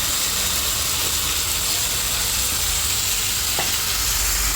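Winter vegetables and tomatoes fry in hot oil for a tangra fish curry, giving a loud, continuous sizzle with faint stirring clinks, close by and without speech.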